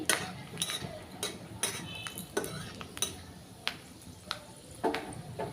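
Cashews and almonds stirred in hot ghee in a pan, a spoon scraping and clinking against metal in sparse irregular taps over a faint background hiss, close and quiet.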